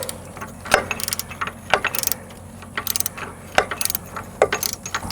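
Socket ratchet clicking as it turns the rear shock bolt on a Suzuki DR650, short bursts of sharp ratcheting clicks in quick irregular strokes, close and fairly quiet, with no talk.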